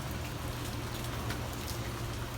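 Steady rain pouring down in Key West, a dense continuous hiss of drops on surfaces with low rumble beneath, close and even throughout, no talking.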